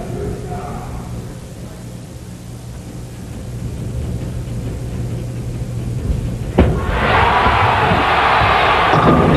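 A bowling crowd at the 1996 Flagship Open swells into loud cheering and applause after a thud, rising over a murmuring arena ambience.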